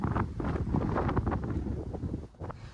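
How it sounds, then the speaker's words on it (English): Strong wind buffets the microphone at a hilltop antenna site, a close, rough roar that gusts and surges without a break. "the wind up here"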